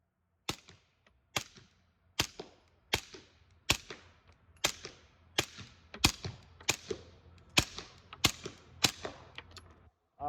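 Suppressed shots from a Rugged Obsidian 45 fired into dirt outdoors: about a dozen sharp, muffled cracks in a steady rhythm roughly every 0.7 seconds, each with a short fading tail, no talk between them.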